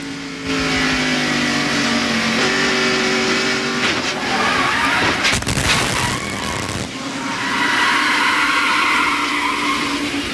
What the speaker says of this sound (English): And now the in-car replay from Dale Jarrett's machine.